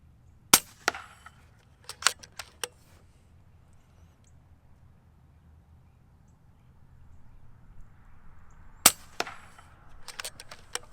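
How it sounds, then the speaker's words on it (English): An FX Dreamline Walnut .22 air rifle fires JSB Hades frangible hollow-point pellets at about 50 yards outdoors, with sharp, close cracks spaced seconds apart, some followed by faint ticks, over a quiet breezy background. "we're going to shoot a 5-shot group"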